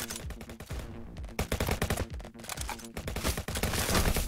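Rapid bursts of automatic gunfire from a shooter video game, loud and close, with dense overlapping shots that barely pause for about four seconds and no voices.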